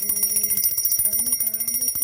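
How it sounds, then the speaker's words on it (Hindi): A small metal puja bell rings steadily during a Shiv puja, giving rapid bright repeated chimes with sustained ringing tones, close and loud, with no talking. "ये घंटी की आवाज़ मुझे बहुत सुंदर लगती है।"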